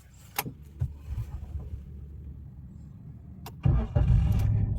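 A car engine cranks and catches near the end of a quiet stretch with a few clicks and knocks, its idle rumbling steadily afterward during a driving lesson with the clutch pressed.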